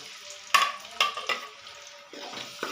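Sliced onions going into a pan of hot ghee for a Punjabi-style green chickpea curry, giving a few sharp stirring and frying bursts over a steady sizzle, close up with no talk.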